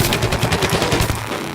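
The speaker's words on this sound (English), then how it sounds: "He's got a big, powerful zombie cannon as his primary weapon." A heavy zombie cannon firing in the Plants vs. Zombies Garden Warfare video game: a dense, loud, rapid burst of booming shots rolling continuously with no pauses and no voices.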